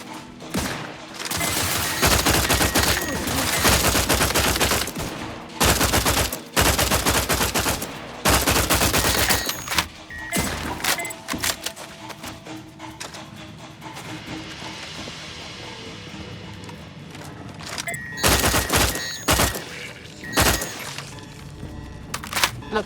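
Heavy gunfire in the video game The Outer Worlds 2, loud bursts of automatic shooting with cracks and shattering impacts, separated by short lulls and a quieter stretch of background noise midway.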